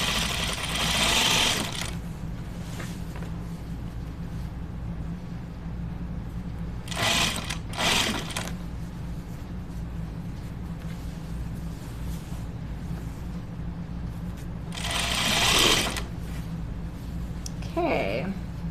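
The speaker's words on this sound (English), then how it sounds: "I never really get to sew flat out on this machine." A domestic sewing machine runs flat out stitching a seam on a men's button-up shirt, a steady close mechanical whir with brief louder bursts near the start, middle and end.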